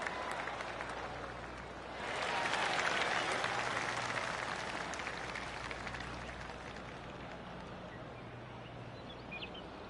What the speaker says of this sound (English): That's a golf clap right there.